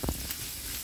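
Onions and ginger sautéing with salt in a pan, a short steady sizzle with a faint clink of a utensil near the start.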